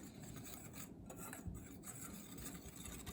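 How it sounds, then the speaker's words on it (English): A whisk stirring flour into cupcake batter in a bowl, giving a steady close rasping, scraping texture throughout with no talk. "go ahead and mix it in with our whisk"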